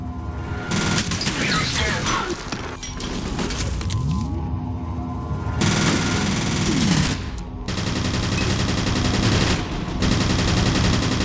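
Heavy-recoil gunfire in F.E.A.R. comes in long, loud automatic bursts with brief pauses between them, mixed with shattering debris and impacts up close.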